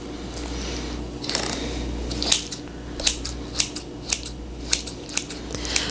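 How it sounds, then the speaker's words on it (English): Kitchen scissors snip through caramel apple slices for a cheesecake, giving a series of sharp, close cutting clicks at a fairly regular pace over a low background hum. "using this technique with the scissors to be the easiest, most efficient way to do this"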